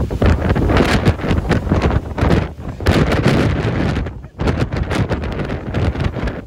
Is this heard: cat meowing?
no